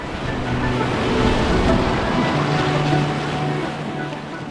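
River water in Kibler Valley rushes over rocks in a loud, continuous wash that swells slightly and then eases, with no voices.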